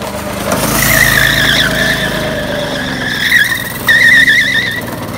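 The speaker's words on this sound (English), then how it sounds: "I never expected this thing to drift like this." A 1960s go-kart drifting, its tires squealing in wavering, sustained skids over a low engine drone, with a second sharper squeal burst toward the end.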